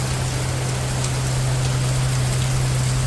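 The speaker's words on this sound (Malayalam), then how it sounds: "മുറ്റത്തേക്ക് ഇറങ്ങിയപ്പോൾ നല്ല മഴ" Dense, steady downpour hissing without a break, with a low electrical hum running underneath.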